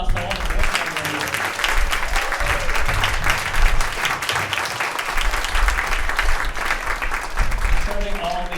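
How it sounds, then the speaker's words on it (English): Audience at an evening wine-raffle gathering applauding the board members, brisk dense clapping with scattered cheers that lasts several seconds, with voices talking over part of it. "can we give a round of applause to all the board members?"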